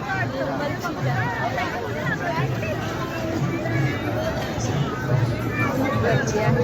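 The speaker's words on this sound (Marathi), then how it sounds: "खूप गर्दी आहे." Crowd babble at the Nirmal village fair (jatra) forms a dense, constant hubbub of many overlapping voices that stays close and loud throughout, with nearby people also chatting.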